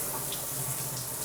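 Shower water pours steadily onto an LG G6 smartphone, a close, continuous rushing hiss with no breaks for the whole short moment.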